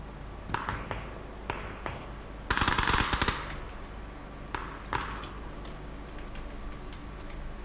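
Gunfire crackles in a shooting video game, with scattered single shots around a dense, loud burst of rapid fire in the middle, all over a steady low background hum.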